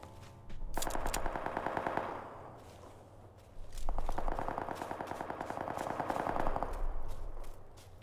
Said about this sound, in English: sounds like someone's shooting